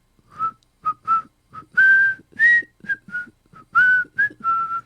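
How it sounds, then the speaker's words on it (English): A person whistles the Itsy Bitsy Spider tune in short, clear, melodic phrases, close and alone, with brief gaps between notes. "Make it whistle."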